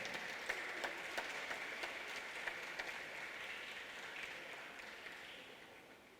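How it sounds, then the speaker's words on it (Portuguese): Crowd clapping at a televised event, a faint, fairly distant patter of applause that holds steady and then tapers off slightly toward the end. "Uma salva de palmas."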